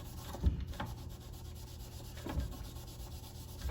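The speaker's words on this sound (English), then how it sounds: "I'm just going to start buffing this thing and see what happens here" Rhythmic scrubbing of a dirty door with a pad and Bar Keepers Friend, soft close rubbing strokes repeating a few times over a quiet background.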